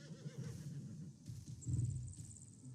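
A horse in a video game gives a faint whinny over quiet background ambience, with a thin high tone near the end.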